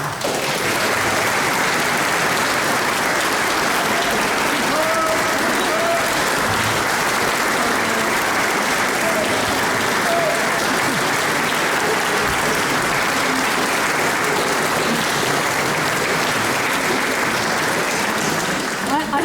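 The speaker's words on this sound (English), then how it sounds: "give a big round of applause for Katy" Sustained, dense applause from a theatre audience at a community musical at Sandfields, honouring Katy; loud and steady throughout with a faint murmur of voices mixed in.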